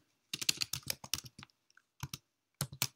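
Rapid key taps on a computer keyboard as a sudo command is typed, a quick burst of clicks, a short pause, then a few more strokes; close and clear with no talking.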